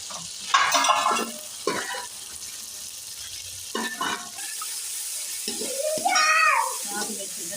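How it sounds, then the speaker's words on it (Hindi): Pieces of chicken sizzle and get stirred in a pan with cooked onions; spoon scrapes and stirring bursts come and go over a steady frying hiss, close up. "हल्का भी फ्राई करना है।"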